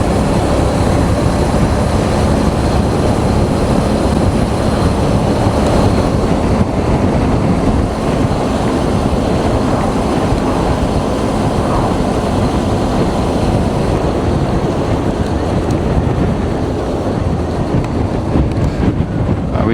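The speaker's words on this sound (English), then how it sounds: "Very windy." Loud, constant wind buffets the microphone on a motorcycle ride toward Beachy Head, Eastbourne, with a deep roaring rumble that never lets up, with no other sounds standing out.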